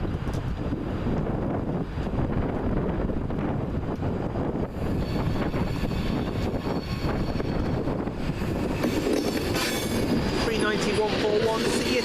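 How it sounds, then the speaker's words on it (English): Virgin Trains West Coast train departing Carlisle station, a steady rumble of rolling carriages with wind buffeting the microphone and a faint squeal of wheels building toward the end. "the slightly delayed 1349 Virgin Trains West Coast service from Glasgow Central to London Euston"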